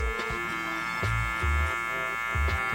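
Electric hair clipper buzzing steadily while cutting hair during a burst fade, a loud, close, constant hum with brief lower thumps as the blades work through the hair.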